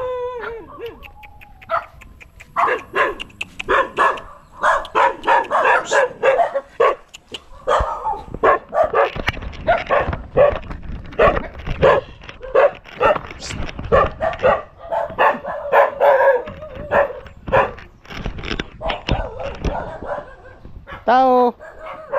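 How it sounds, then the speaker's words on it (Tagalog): A crowd of dogs barks repeatedly outdoors. The yips, howls and whimpers overlap loudly and keep coming throughout, and people talk intermittently in the background. "Daming aso."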